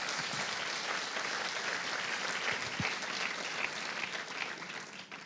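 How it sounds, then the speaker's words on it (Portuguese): A church congregation applauds in a dense, steady wash of clapping at moderate distance, lasting the full few seconds without speech on top. "Vai, dá uma salva de palmas a Jesus."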